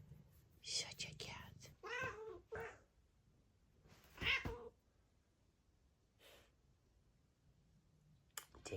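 A pet cat gives a few soft meows and breathy vocal sounds, close by and quiet, with a person speaking gently in between and short pauses of near silence.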